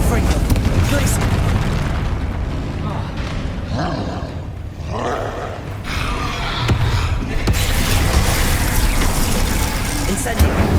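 Spell explosions from a Confringo blast in Hogwarts Legacy, a continuous loud roaring, rumbling wash of blasts and combat noise that swells and dips without pause.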